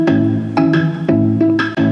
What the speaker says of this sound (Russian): И данная гитара в MIDI-информации, по мнению Ableton Live 11, звучит вот так.